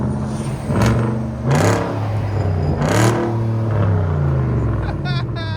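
Loud, close revving from a 2012 Hyundai Genesis 4.6L V8 fitted with Dynomax Bullets and a muffler delete, three sharp rises over a steady rumble, with some voice in the mix.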